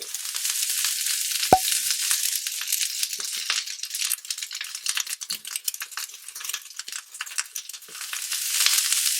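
Onion rings sizzle and crackle in hot oil on a stovetop, a steady close frying hiss with one sharp clink near the start, no talking.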